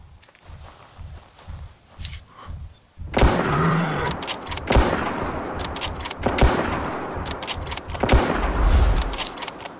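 Gunfire in the hunting video game Prehistoric Hunt: several sharp, loud shots ring out at irregular intervals, standing out over a constant background of game ambience and movement noise.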